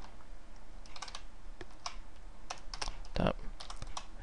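Rapid clicking keystrokes on a gaming computer keyboard, typed in uneven bursts at close range against a steady low background hiss.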